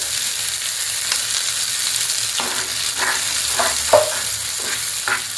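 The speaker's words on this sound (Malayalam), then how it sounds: "നമ്മളിപ്പോൾ അരച്ച് വെച്ചിരിക്കുന്ന ചട്നി ഇതിലേക്ക് അങ്ങോട്ട് ഒഴിക്കാം" Ground tomato chutney hits hot oil in a pan, giving a steady broadband sizzle with scattered scraping stir strokes and a sharper clink near the end, close and continuous, with no voices.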